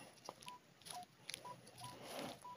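A metal detector sweeping woods at an old pre-1920 dump site gives a string of short, clean beeps, roughly five, spaced unevenly over a buried aluminum salt shaker top. The signal is faint against soft background rustle.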